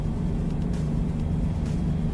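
Steady low truck engine drone from a driving simulator played through speakers, a constant hum with a strong low tone and no notable rise or fall.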